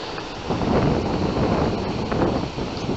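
Steady wind rumbles and buffets the microphone outdoors under an afternoon sky, a dense continuous roar with no other sound.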